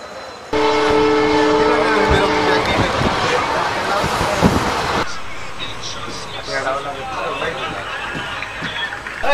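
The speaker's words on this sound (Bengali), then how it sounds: "মানমান থেকে 6:11তে ছেড়ে দিল আমাদের সেই ট্রেন।" A passenger train from Manmad bound for Aurangabad sounds its horn loudly, then rolls on with rattling, clanking wagons and a steady running roar that fades somewhat toward the end.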